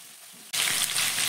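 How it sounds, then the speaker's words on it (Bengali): Potatoes and drumstick pieces dropped into hot oil, near silence giving way to a sudden loud, hissing sizzle that stays steady and close. "এবার তেলের মধ্যে দিয়ে দিচ্ছি আলু আর এখানে সজনে ডাঁটা।"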